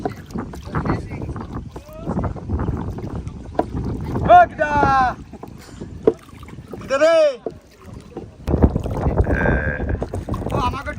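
A very large wooden boat sets off along a canal into deep forest, its broadband rumble and splashing water mixed with gusty wind noise while several people talk and call out over it.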